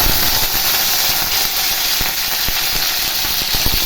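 Curry leaves hit hot oil with mustard seeds already popped, giving a loud, steady sizzle with scattered sharp crackles and pops throughout, close up while a lemon rasam tempering cooks.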